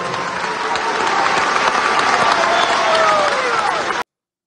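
Enthusiastic applause from supporters greeting a map of Venezuela, a thick, sustained burst of clapping with crowd murmur underneath that runs about four seconds and then cuts off abruptly to silence.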